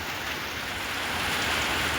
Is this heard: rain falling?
yes